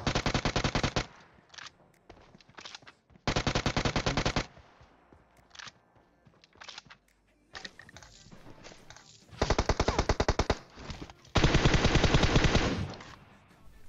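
Bursts of automatic gunfire from the mobile battle royale game PUBG Mobile, several long rapid-fire volleys separated by short gaps with scattered single shots, loud and close, with no talking.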